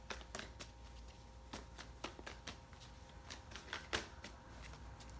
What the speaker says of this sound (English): here I am shuffling normally